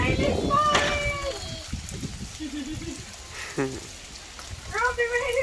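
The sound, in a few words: rain falling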